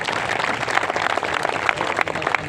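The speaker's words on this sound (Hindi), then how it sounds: "हमारी ताई जी के लिए भी जोरदार तालियां हो जाए।" A crowd at a roadside protest sit-in in Panchkula claps in lively, uneven applause, with individual sharp claps standing out from the dense rattle at close range.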